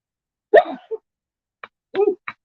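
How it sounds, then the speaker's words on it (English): A sharp sneeze bursts out near and loud, followed by a few short, softer sniffs and breathy noises. "Anyway, I just sneeze."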